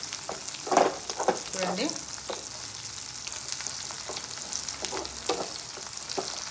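Mutton curry frying in a pan, a steady close sizzle with occasional stirring scrapes and clinks, a brief word spoken early on.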